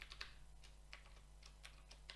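C code is typed on a computer keyboard: quiet, irregular key clicks in short bursts over a low steady hum, close but faint, with no voices.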